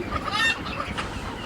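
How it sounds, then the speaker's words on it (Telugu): Chickens at a poultry farm in Nigeria, a mix of native country hens and farm birds, clucking close by in a short burst of overlapping calls over a busy background. "అన్ని నాటుకోళ్ళు చూడండి, నిప్పు కోళ్ళు, ఫారం కోళ్ళు కూడా ఉన్నాయండి"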